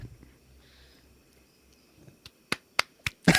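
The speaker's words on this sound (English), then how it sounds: "Slow clap." A few slow, spaced hand claps, close and fairly loud, rising in strength toward the end against a quiet background.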